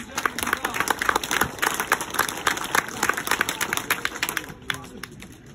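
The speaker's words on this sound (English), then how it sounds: "Y'all would clap for Pride and Joe." Outdoor crowd applauding at a field trial hunt awards gathering, a steady patter of many hands clapping with scattered louder claps, fading out near the end.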